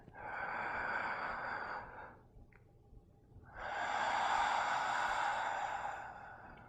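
Deep, slow yoga breaths are taken in hero pose: one long, audible breath, then a short pause, then a second full, breathy inhale and exhale, heard close and clear.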